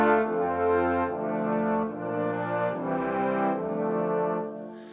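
Tenor trombones play sustained chords in close harmony, several low lines moving together in slow phrases with a warm, steady tone.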